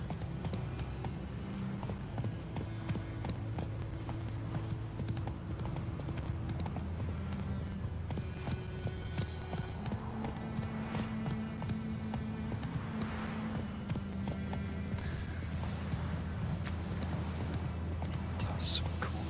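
Horse Roach galloping in The Witcher video game, steady rapid clip-clop hoofbeats throughout, with a voice speaking over the game audio and background music.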